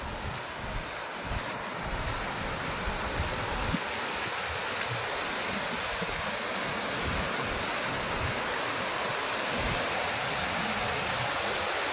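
After heavy rain, water pours out of an overflowing old village pond through its outlet, a steady, broad rushing roar with wind buffeting the microphone and no talking.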